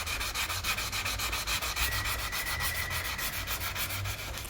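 A car headlight being hand sanded with 220 and 400 grit paper, a steady rhythmic back-and-forth rasp with quick regular strokes, close and moderately loud.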